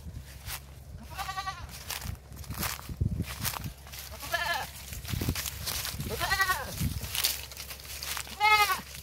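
A goat bleats several times in a rural Philippine area among bamboo and trees, four wavering, nasal calls spaced a couple of seconds apart, fairly close, over low outdoor rumble and movement noise.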